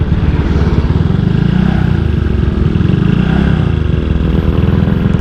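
A Seher 63 BRT motorcycle revs hard while being ridden, its loud, rough engine drone pulsing steadily and up close throughout, with constant wind roar layered over it.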